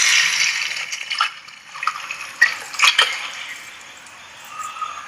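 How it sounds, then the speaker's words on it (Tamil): Tamarind water poured into a pan of sautéed onion, tomato and green chilli for a fish curry, giving a hissing sizzle that fades, with a few metallic clinks of utensils, close by, no talk. "புளி கரைசல் எடுத்து ஊற்றிக்கலாம்"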